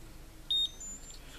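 A single short, high electronic beep from a Xiaomi Mijia Sphere 360 camera powering on sounds once against a quiet background.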